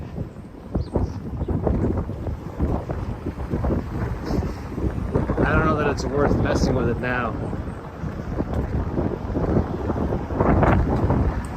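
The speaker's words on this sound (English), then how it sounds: "It's just gonna be a bit more windy." Gusty wind buffets an iPhone microphone in low rumbling bursts while someone talks over it, walking along Central Park West in Manhattan.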